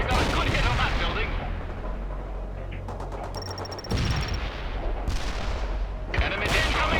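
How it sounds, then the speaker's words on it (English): Incoming enemy gunfire and artillery in the real-time strategy game World in Conflict, Soviet assault: dense, continuous rumbling barrage with bursts of rapid shots, loud and sustained throughout, with brief gaps around the middle. "Enemy incoming fire!"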